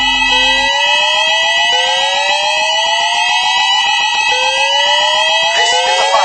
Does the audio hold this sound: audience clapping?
no